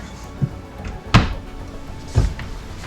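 A big storage drawer in a fifth-wheel RV on display at an RV show knocks shut or open in three separate solid thunks, spaced about a second apart, fairly close and alone with no talk.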